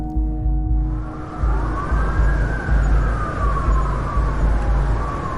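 A police siren wails with a rising and falling tone over a low rumble of traffic, loud and sustained for several seconds.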